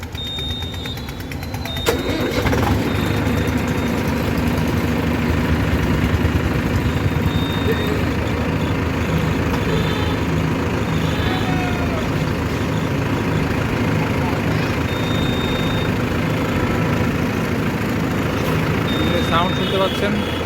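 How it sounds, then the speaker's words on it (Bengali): A Mahindra Novo tractor with low running hours sits idling, its engine holding a steady, close, even rumble. A short sound is heard just before the engine settles into its constant drone. "গাড়ির ইঞ্জিনের সাউন্ড।"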